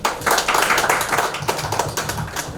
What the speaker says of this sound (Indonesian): Tepuk tangan Bapak Ibu Saudara.